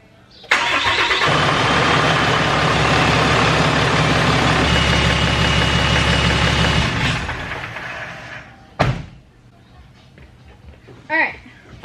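A Cummins 6.7 diesel in a 2017 Ram 3500 dually cranks and fires, then settles into a loud, steady clattering idle for several seconds before cutting off, followed by a couple of short sharp noises.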